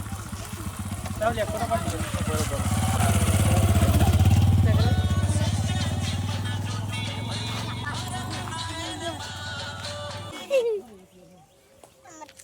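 A motorcycle rides past in a village, its low engine drone swelling to a peak and then fading away, with people chatting and a voice over it.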